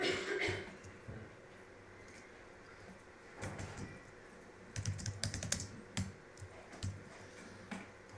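Someone types a folder name on a computer keyboard: soft bursts of quick keystrokes, close and faint, after a few seconds of quiet, with a brief louder tap at the start.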